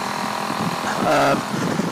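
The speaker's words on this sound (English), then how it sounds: "If you got a high revving motor, you're going to try to do something a little like this" A small Predator engine drones steadily during break-in and briefly swells in a short rev, heard up close with a constant mechanical hum.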